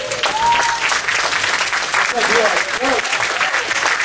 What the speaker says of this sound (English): Don't clap, please, don't clap.